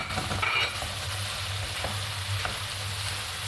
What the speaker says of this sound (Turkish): Sebzelerim yumuşayana kadar güzelce kavuracağım.